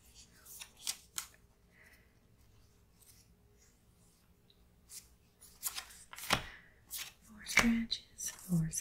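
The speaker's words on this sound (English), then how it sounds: "Draw a card." Cards slide and snap against each other during an X-Men Legendary board game, close and crisp rustling bursts in a quiet room, with soft speech in between.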